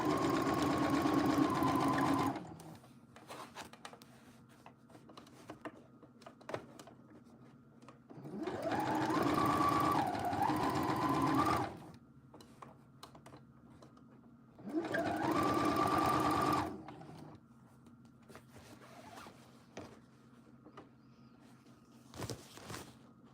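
A sewing machine stitches in three separate bursts of a few seconds each, a steady whirring run broken by quiet pauses, fairly close and alone with no talk.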